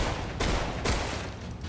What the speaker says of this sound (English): Using the M14 again to save AKM ammo.